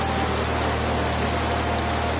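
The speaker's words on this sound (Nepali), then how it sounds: "अहिले चाहिँ पानी परिहाल्यो" Heavy rain pours down in a steady, dense hiss that stays even and unbroken from start to finish, with no voices over it.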